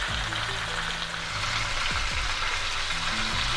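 A whole chicken for murgh musallam fries in a pan, producing a loud, close, continuous sizzle with a constant crackling hiss throughout.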